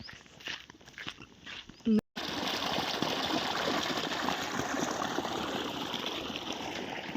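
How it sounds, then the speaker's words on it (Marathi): Water rushes steadily through an irrigated farm field, a continuous broadband flow that sets in after a brief pause and holds loud and close to the end, with a few footstep-like knocks before it. "पाणी पळत निघालं"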